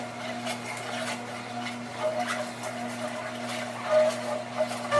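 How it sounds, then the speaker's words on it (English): Kuvings Revo830 juicer pressing kale: a steady motor hum with a low mechanical drone and faint intermittent crunching and scraping, fairly constant in level throughout and with no voices. "let's go ahead and juice the kale"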